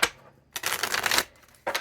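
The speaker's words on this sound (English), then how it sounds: "I'm gonna shuffle the cards and we'll just pull your energy" A deck of playing cards shuffled during a tarot-style reading, two short riffling bursts separated by a pause, close and fairly quiet, without talk.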